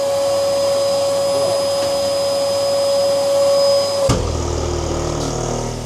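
A vacuum cleaner with its dust container full runs loudly and steadily with a strong whine, then its tone drops abruptly as the suction changes, continuing as a lower, rougher roar.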